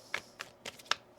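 Tarot cards being shuffled by hand, a series of crisp riffling bursts at a steady, brisk rhythm, close and fairly quiet.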